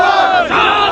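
Large crowd of protesting students at an unemployed youth demonstration in Uttarakhand, shouting a loud, sustained chant in unison, close and dense.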